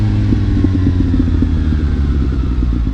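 A Suzuki GSX-S750 motorcycle engine rumbles loud and close during downshifting, a steady low growl with rapid mechanical clatter running through it.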